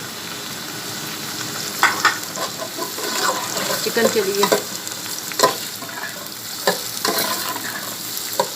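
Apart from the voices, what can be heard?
onions frying in oil for chicken bhindi masala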